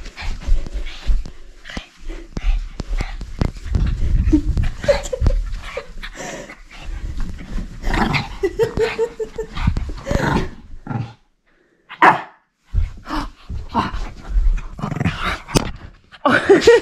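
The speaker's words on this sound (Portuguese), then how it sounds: "Hoje meu cachorro tá sendo meio doido e tá com bastante energia." A dog barks and whimpers in excited bursts, close by, with scuffling and movement noises between the calls.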